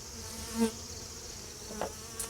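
Honey bees buzz around an open nuc colony during a hive inspection, a soft continuous drone with a few individual bees passing close by.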